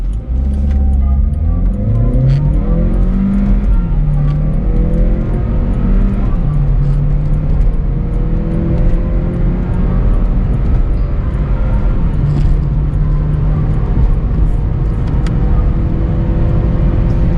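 A VW Polo engine revs up steadily through the gears, pitch climbing and dropping with each shift, loud and close amid constant road noise.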